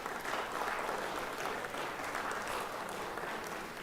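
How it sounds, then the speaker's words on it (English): Applause for rural hospital administrators and staff at a Georgia legislative session, a steady, dense clapping from a large crowd that carries on evenly throughout. "Let's give them a round of applause today"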